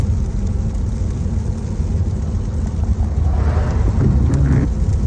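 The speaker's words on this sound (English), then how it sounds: "It's still raining." Steady rain falls in Florida, a dense continuous hiss with low rumbling underneath, loud and unbroken throughout.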